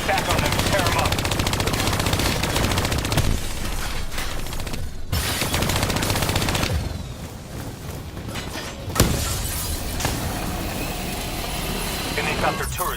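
Sustained turret machine-gun fire in the Call of Duty: Black Ops 3 campaign, loud and continuous over a dense battle soundtrack, with a sharp impact near the end and a voice talking over it.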